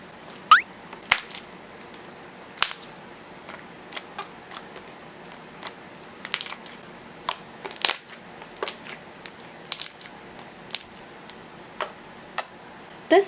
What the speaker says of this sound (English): This slime is really glossy, stretchy, and clicky.